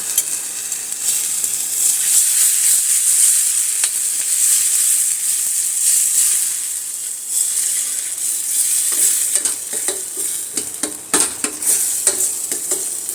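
Masala with a spoonful of cream fries in a pan, a bright continuous sizzle with scraping stir strokes growing busier toward the end; no talking.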